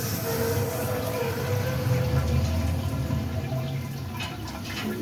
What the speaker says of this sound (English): Now, I'm going to turn the water on and see what happens.